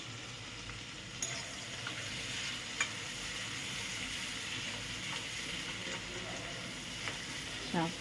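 Chopped onions go into a hot pan and fry with a steady, close sizzle and hiss, with a few faint stirring clinks, while a Bengali-style chicken dish is being made.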